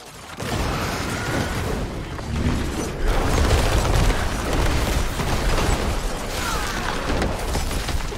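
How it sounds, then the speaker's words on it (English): Explosions from the video game Diablo 4 crackle in a dense, continuous wash of bursts and mechanical clatter, loud and unbroken across the whole stretch. "everyone has like those little baby explosions"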